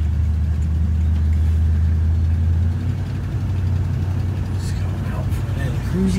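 A 1967 Buick Skylark Convertible on a short test drive through a residential neighborhood hums with a steady, deep engine drone and road rumble, loud and continuous from inside the car.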